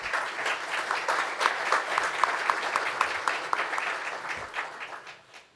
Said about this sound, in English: May I ask for a round of applause for the panel who is with us today